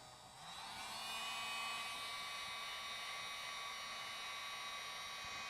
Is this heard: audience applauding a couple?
no